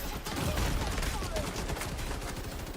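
Rapid gunfire in The Division 2, a dense stream of shots continuing steadily for the whole stretch, loud and close, with faint game voices mixed underneath.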